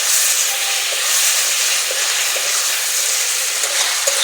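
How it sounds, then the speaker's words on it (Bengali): A paste of ginger, garlic and green chili with chopped tomato fries in a pan for a jackfruit and prawn curry, giving a steady, bright, continuous sizzle with no pauses. "ভালো করে মশলাটাকে ভেজে নেব।"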